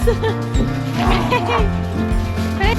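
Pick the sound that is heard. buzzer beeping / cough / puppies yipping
puppies yipping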